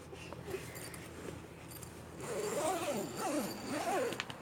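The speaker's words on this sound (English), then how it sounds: "Want me to zip it up?" A clothing zipper is pulled up in a few short strokes, fairly close and moderately loud, with brief faint talk before it.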